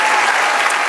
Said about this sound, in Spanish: Dele aplauso